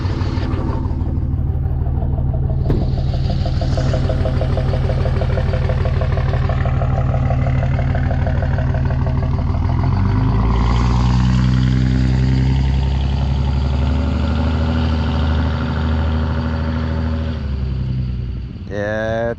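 A 24V Cummins diesel truck engine idles loud and close with a rough, rhythmic knock. Its pitch and tone shift midway as the truck begins to drive off, then the noise cuts off abruptly at the end.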